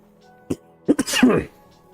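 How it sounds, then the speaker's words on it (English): A streamer's cough caught close on the microphone: a short burst followed by a louder, rougher double cough with a brief throaty tail, standing alone in an otherwise quiet room. "Sorry about you hearing me cough through the mic."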